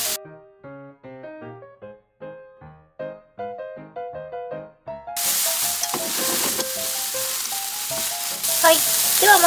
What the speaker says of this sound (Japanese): ちぎった舞茸とおろしにんにく小さじ1を入れ、舞茸に火が通りしんなりするまで加熱します。